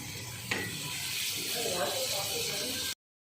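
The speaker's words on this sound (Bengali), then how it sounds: "বেগুন এই ভাজা হচ্ছে" Eggplant (brinjal) frying in a pan, a steady close sizzle and hiss that runs throughout under faint background sound, then cuts off abruptly.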